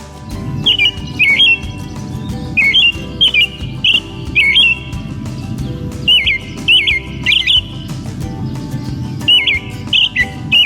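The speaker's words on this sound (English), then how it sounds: "the American robin, and she has such a great sound" American robin song in a backyard, a series of clear whistled caroling phrases repeating in short bursts over a constant low background hum.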